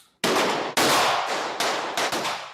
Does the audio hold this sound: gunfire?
yes